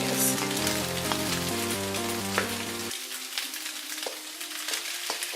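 Tofu scramble sizzles and crackles in a frying pan on medium-high heat, a steady frying hiss with scattered pops, with musical tones over the first half that then drop away.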